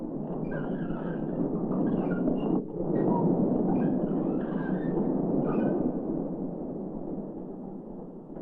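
A steady, loud rumbling of the Calico Mine Ride train at Knott's Berry Farm rolling along rails, a continuous low roar with faint metallic squeals drifting above it.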